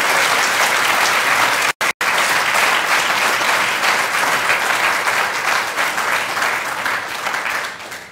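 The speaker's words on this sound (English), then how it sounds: "Let's give them a next round of applause." Loud, sustained applause from an audience at a Stellenbosch University inaugural lecture honouring two new full professors, a dense roar of clapping with a brief dropout, tapering off at the end.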